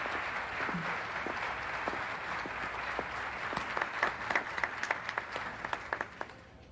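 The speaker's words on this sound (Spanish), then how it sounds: "Un aplauso para todas nuestras hermosas y jóvenes concursantes." Beauty contest audience applauding its contestants, a soft wash of many hands clapping at a distance, growing into sharper, more distinct claps toward the end before fading.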